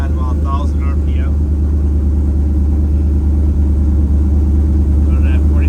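A 6.0 Vortec engine idles high at about 1,000 RPM just after start-up, a steady, loud, close low rumble with an even mechanical drone that holds throughout.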